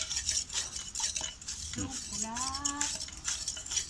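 A blade repeatedly slices shredded tobacco by hand in the traditional way, giving quick, close scraping and chopping strokes in a steady rhythm, with a short voiced sound briefly heard over the cutting.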